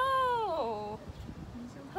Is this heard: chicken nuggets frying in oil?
no